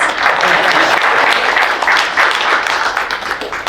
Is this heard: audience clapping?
yes